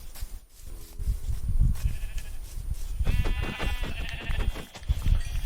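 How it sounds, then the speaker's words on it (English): Minecraft sheep bleat several times in quick succession, a clear wavering baa near and loud, from about three seconds on, over game background noise. "Ah, there's a sheep."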